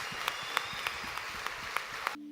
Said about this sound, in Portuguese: Uma salva de palmas a eles, em nome de Jesus.